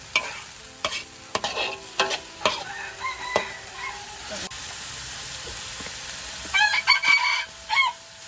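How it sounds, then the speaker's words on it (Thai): A spatula scrapes and clacks irregularly against a pan while stir-frying stink beans with shrimp paste, shrimp and minced pork over a faint sizzle, while a rooster crows in the background. "ผัดผัดผัดผัดไปตาม กระบวนการนะครับผม"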